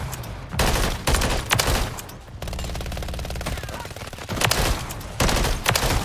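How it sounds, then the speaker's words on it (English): Rapid automatic gunfire in Modern Warfare 3 rattles in several loud sustained bursts, one steady stretch of firing in the middle and sharper volleys at the start and end. "They're shooting each other because of the EMP."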